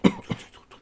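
Two short coughs close to the listener, a sharp loud one followed by a weaker one, with no talking.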